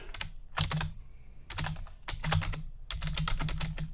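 Fingers type a file name on a computer keyboard in quick, clustered bursts of crisp, close clicks separated by short pauses, with no voices.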